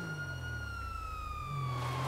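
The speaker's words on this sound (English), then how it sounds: "That's why it's a police car." A police car siren in the video game GTA V Online wails steadily and loudly for about two seconds, its tone sliding slowly lower and swelling slightly toward the end, with no talking over it.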